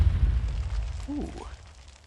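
Siege barrage explosion in Conan Exiles: a loud low boom at the start that rumbles on with debris-like crackle, then a brief falling whistle partway through before fading.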